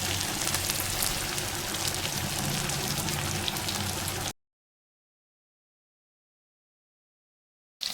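Fish fries in oil for a village-style fish fry, a steady crackling sizzle close by for about four seconds before cutting to silence, then returning briefly at the very end.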